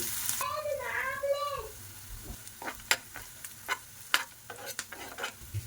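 Onions and green chillies sizzle in a pan while being stirred, a steady frying hiss broken by sharp scraping strokes of a spoon against the metal; a short voice-like warble rises early on, otherwise no talk.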